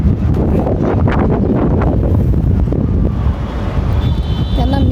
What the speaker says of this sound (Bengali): অনেক শো শো শব্দ হইতেছে, আর ঠান্ডা বাতাস আসতেছে